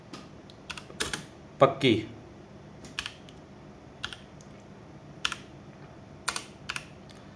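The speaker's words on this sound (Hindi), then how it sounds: "जैसा कि मैं टाइप कर रहा हूँ" Typing on a computer keyboard while designing an Urdu-font neon sign layout, with scattered key clicks and taps in irregular bursts, moderately close, alongside someone speaking briefly.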